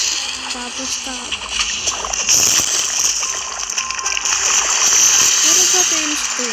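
Water splashing in the Blox Fruits video game, a broad hissing splatter that builds and churns steadily, with a person talking over it.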